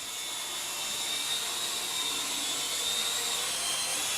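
An Air Hogs Star Wars Imperial Aratech 74-Z speeder bike drone runs its propellers indoors in an office, giving a steady, loud high-pitched whine and buzz that holds constant throughout without a break.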